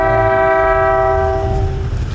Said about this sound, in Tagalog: So pinalitan natin siya ng Dolce 3 na busina.